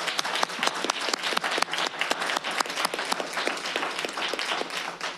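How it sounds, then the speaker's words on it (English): Audience applause at a public school board meeting, a steady wash of many hands clapping at moderate volume for about five seconds, with no talking over it. "So I want to give Amy a big round of applause for her great work"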